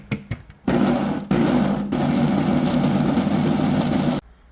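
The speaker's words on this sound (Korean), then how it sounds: "이제 믹서기에다가 이제 갈을 거예요." A blender grinds kimchi seasoning of onion, salted shrimp and sand lance fish sauce, starting with a few short pulses and then running in one loud, steady motor roar before cutting off.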